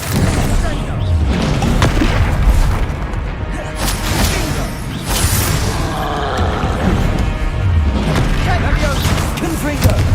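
Bombarda blasting spell explosions in the game Hogwarts Legacy: loud repeated booms and crashing bursts amid dense, continuous combat noise, with a voice shouting spell names over the din.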